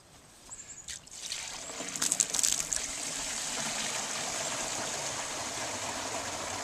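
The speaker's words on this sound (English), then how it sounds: "we want to fill this bucket up completely before we open our valve" Water poured into a bucket, splashing in loudly after a few clanks and then settling into a steady rushing trickle, close by with no talk.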